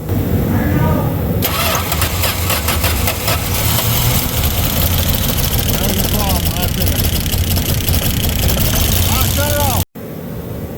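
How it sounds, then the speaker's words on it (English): A Dodge Aspen's starter cranks and the engine catches, then settles into a loud, steady, rough idle close to the listener, with some talk over the running motor. "Ah, crank her up. Just let it idle."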